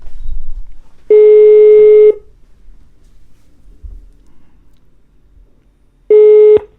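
Outgoing telephone ringback tones while placing a call: two loud steady tone bursts about a second long, spaced roughly five seconds apart, with quiet low background rumble between them and no talking.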